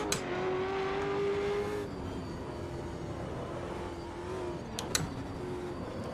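Race car engines in the video game Automobilista 2 hum steadily, one note dropping after a couple of seconds, then continuing at a lower pitch with a couple of sharp clicks or gear changes near the end.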